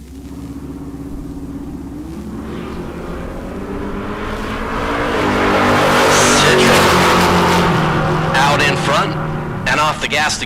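Chevrolet Camaro and black Ford Mustang launching side by side at a drag strip, a deep rumbling engine roar that swells over several seconds, then eases off, with an announcer talking over it.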